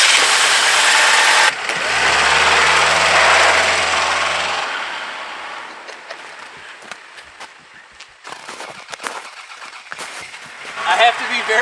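A 90s Toyota Camry engine with no oil, no valve cover and no hood runs loud and rough, then dies down into quieter clatter and rattles while a person talks.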